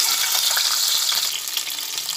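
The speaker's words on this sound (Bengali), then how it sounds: "কড়াইতে এক এক করে ডিম দিয়ে দিচ্ছি" Eggs frying in a hot wok (karahi), a loud, dense crackling sizzle with sputtering pops throughout, close and continuous.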